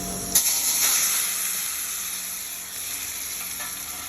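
Mustard seeds and tomatoes fry in hot oil with turmeric for Telugu tomato barada, giving a steady close sizzle with a sharp crackle near the start that eases into an even hiss.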